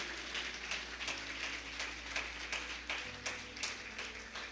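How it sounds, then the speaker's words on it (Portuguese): A church congregation applauds faintly and distantly, scattered claps over a steady low electrical hum, with no talk. "Você pode aplaudir a Jesus por isso?"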